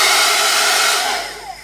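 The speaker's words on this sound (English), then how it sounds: "I'm just going to give this a quick blast with a hairdryer" A hairdryer blasts air onto a journal page, a loud, close, steady whoosh that eases off slightly toward the end.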